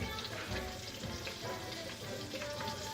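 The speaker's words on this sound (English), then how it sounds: "Really frying now." Steady crackling sizzle of cod pieces frying in hot oil, dense and continuous throughout, close by with no voices.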